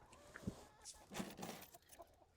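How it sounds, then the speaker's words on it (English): A chicken clucks several times in short, irregular bursts. The clucks are fairly quiet and sit over low background noise. "And there's a chicken commenting over here."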